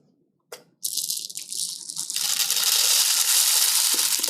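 Dry rice grains pour into a homemade rainstick tube, starting with a brief sharp tap and then a continuous loud hissing rattle that builds and holds steady.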